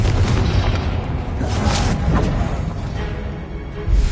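A Confringo spell explodes in Hogwarts Legacy on PlayStation 5, a loud, dense, rumbling blast that fills the whole stretch with another boom at the end.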